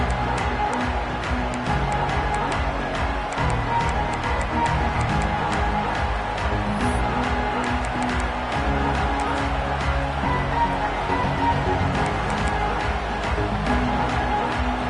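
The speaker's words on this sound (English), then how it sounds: "This crowd ready to make its presence known." A packed stadium crowd at a Florida State college football game keeps up a loud, steady roar that holds with no breaks throughout.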